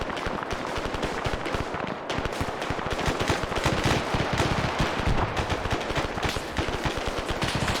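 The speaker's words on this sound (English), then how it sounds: "Hope the gunfire isn't too overpowering." Sustained rapid gunfire from a Vietnam-era river boat patrol in a video game, dense continuous bursts of automatic fire that stay loud and close throughout with no talk over them.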